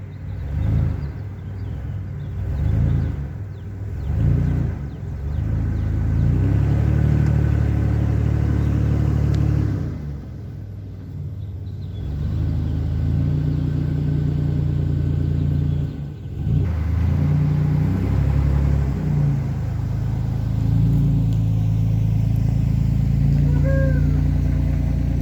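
A Ford 8N tractor engine runs with a low, steady rumble that rises and dips in loudness through the stretch, heard up close with no clear talking.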